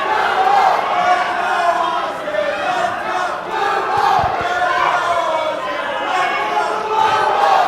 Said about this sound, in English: This crowd is electric tonight.